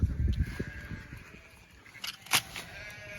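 A few hair sheep bleat in short bursts nearby on winter pasture, with shuffling and a faint hum in the background.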